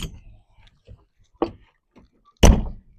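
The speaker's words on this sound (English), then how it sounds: "Let me shut the door" Door of a pop-up truck camper being shut: a few light clicks and thumps, then one solid, close slam near the end.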